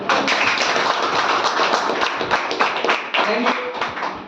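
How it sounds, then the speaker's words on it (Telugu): An audience at a talk claps loudly in a dense, sustained burst of hand claps, close and full, with some voices mixed in. "గట్టిగా క్లాప్ కొట్టండి."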